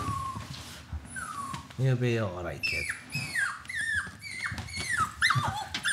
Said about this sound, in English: my dogs have like never been in contact with anybody else's dog